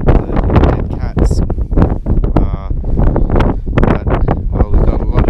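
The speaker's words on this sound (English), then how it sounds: "It's very windy, so I'm not sure you can hear me." Strong wind buffets an unshielded microphone at a lakeside campsite in Haugastøl, Norway, a constant loud rumbling roar running the whole time under a person talking.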